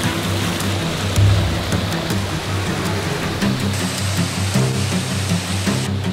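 Emery Creek runs high and fast in winter near Chatsworth, Georgia, a loud, continuous roar of rushing water heard close by, broadband and steady, with brief swells in intensity and no talk.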